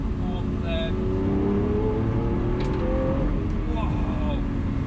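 A Lamborghini Aventador SV with a V12 engine pulls hard through the gears, its loud, steady engine roar rising in pitch and running continuously throughout, heard from inside the car.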